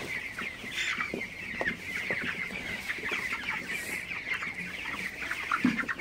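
Broiler chickens on a farm at night, 22 days old, cluck and chatter continuously at moderate volume, a dense flock murmur with scattered sharper calls and no talking.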